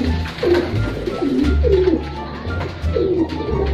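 Pigeons coo in a repeated soft rolling rhythm at a pigeon loft, several close calls over a low murmur of background noise.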